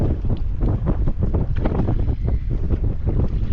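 Strong wind buffets the microphone with a steady low roar, mixed with the churn of water and a fishing boat moving across open sea.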